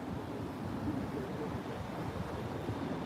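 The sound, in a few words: wind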